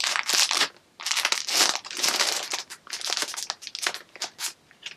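A crinkly plastic yarn bag holding cotton yarn is handled and pulled open, giving close, loud bursts of crunchy crackling that come in uneven waves with short pauses between them.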